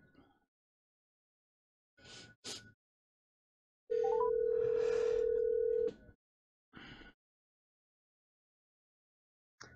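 Telephone call tones ring out on a phone line: a couple of short ringback bursts, then a loud steady two-second tone with a brief chirp, followed by more short rings, fairly close and separated by silence.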